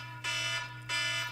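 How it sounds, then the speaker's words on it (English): Piercing electronic alarm beeps from a measuring meter on a bench during Nintendo Switch board-level repair, two sustained tones separated by a short gap, loud and close. "there's the alarm"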